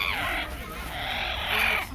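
A yellow-naped Amazon parrot gives a harsh, raspy, screeching call in imitation of a dinosaur raptor. The close, sustained screech swells twice over two seconds.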